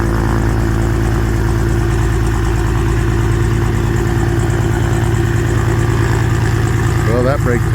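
A Piper Comanche airplane's piston engine runs loud and steady during its first taxi after a cylinder install, a continuous low throbbing drone with a brief rising whine near the end.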